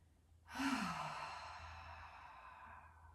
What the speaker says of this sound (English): Big full deep breaths.